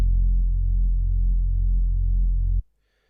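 A respace sample played one octave down from a keyboard in Ableton Live, within a jungle production template: a single loud, sustained low tone that holds steadily for about two and a half seconds, then cuts off abruptly into near silence.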